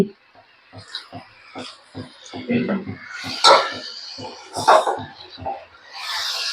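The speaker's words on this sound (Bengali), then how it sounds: "খুব ভালো করে আলুর সঙ্গে মশলার সঙ্গে এঁচোড়টা আমি মিশিয়ে নেবো" Jackfruit being mixed with potatoes and spices in a pan, with a splash of hot water added, for a Bengali jackfruit and prawn dish: a string of close, uneven clattering scrapes and knocks of a spoon against the pan, with softer rustling between them.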